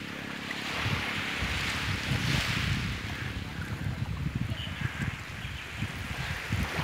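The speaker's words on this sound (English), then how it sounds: "I'm enjoying the beach." Ocean waves wash onto a beach under a broad, steady rush of surf, with gusts of wind buffeting the microphone.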